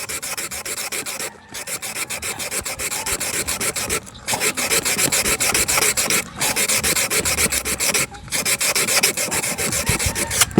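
Sandpaper scrubs an electric fan's metal shaft in quick, steady back-and-forth strokes, loud and close, with short breaks between runs.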